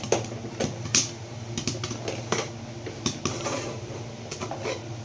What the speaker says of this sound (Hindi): तो आप सुन सकते हैं हमारे जो मक्की के दाने हैं वो अंदर पॉपकॉर्न बनने लगे हैं, तो उनकी आवाज़ आ रही है